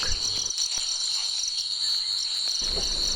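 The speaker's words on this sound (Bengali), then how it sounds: "সন্ধ্যের নিস্তব্ধতা ভেদ করছে চতুর্দিকের ঝিঁঝি পোকার ডাক।" Crickets chirp continuously at an evening resort near Ghatshila, a dense, steady high-pitched trill surrounding the listener, with a few faint low thumps and no voices.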